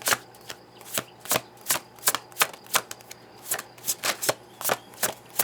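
A deck of cards is shuffled while drawing a card during a reading, giving a series of sharp riffling bursts at an irregular, roughly half-second rhythm, close and clear with no talking.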